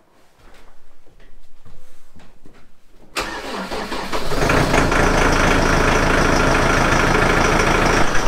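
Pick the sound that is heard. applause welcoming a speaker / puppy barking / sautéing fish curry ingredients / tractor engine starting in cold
tractor engine starting in cold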